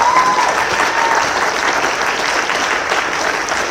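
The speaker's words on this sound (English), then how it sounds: "I just want to give this entire panel another huge round of applause." An audience at a wildfire summit on community fire safety applauds a panel, a steady, sustained round of clapping from a large crowd, loud and even from start to finish.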